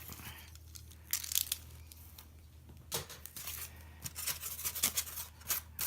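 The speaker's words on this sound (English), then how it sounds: "Just a simple cutting tool to cut right through." Terrain tile material for a dungeon build being cut through with a simple cutting tool, heard as quiet, irregular crisp snips and crunches with short pauses between them.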